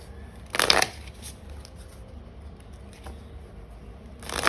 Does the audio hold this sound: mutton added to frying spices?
no